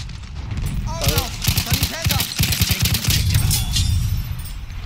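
Gunfire in a Battlefield 1 multiplayer trench fight, a series of loud, sharp shots in quick uneven bursts with other battle noise, while a voice speaks partway through.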